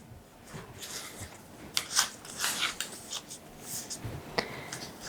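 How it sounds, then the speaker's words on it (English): Paper being creased and folded for a 3D origami heart, with soft close rustles and crisp crinkling taps in irregular bursts, quiet throughout. "Now follow this guide and fold the top portion."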